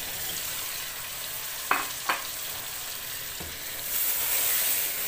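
Spiced chicken kadai sizzles loudly and steadily as yogurt goes in, with a couple of sharp utensil clinks partway through and the hiss swelling brighter near the end.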